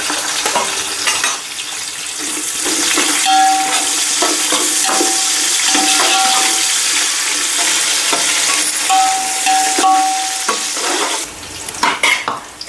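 Onions hiss loudly in hot oil with spices for chicken pulao, a dense sizzle broken by repeated close scraping stirs and a few sharp utensil clatters near the end, with no voices.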